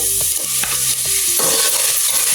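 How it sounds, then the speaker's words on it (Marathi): Tomato fries in a pan for Goan beef curry, with a constant close sizzle and a spoon clattering and scraping in quick, repeated strokes. "सावया बरें भाजून घेवंक जाय"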